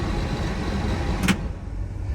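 The cab heater fan of a 1973 Ford F-350 Custom fire truck runs on high with a steady, close whooshing roar. A sharp click follows, and the airflow noise drops off.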